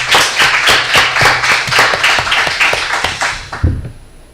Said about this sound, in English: I think you deserve a great range of applause.